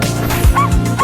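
A cartoon-style dog gives two or three quick, close yipping barks, loud and alone with no talking.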